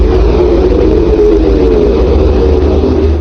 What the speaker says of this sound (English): The first is the sound of the Earth.